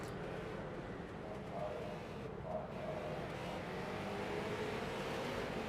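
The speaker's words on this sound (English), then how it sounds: "He's got a good setup on that race car." Race car engines drone at a figure 8 race while a commentator talks over them, with a distant, continuous rumble of cars circling the track.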